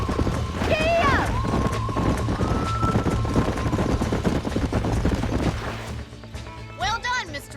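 Horses in Red Dead Redemption clip-clopping and galloping on a ranch, hoofbeats rapid and steady under a sustained synthetic whine and other game sounds, with a brief voice near the start and end.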